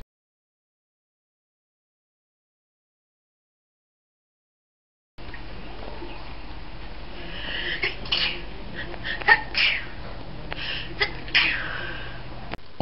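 After several seconds of silence, a person sneezes and breathes audibly, with a few short bursts and gasps close to the microphone.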